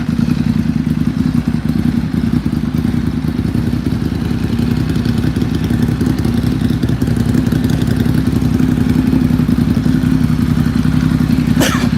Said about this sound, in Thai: เสียงเครื่องแอลทวินตัวนี้จะเป็นเอกลักษณ์เลยของทุกคตินะ